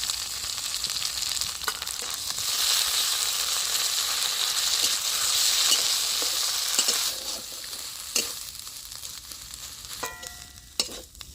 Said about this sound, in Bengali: সজনে শাক বাটাটা দিয়ে আমি বেশ কিছুক্ষণ নেড়ে নিয়েছি।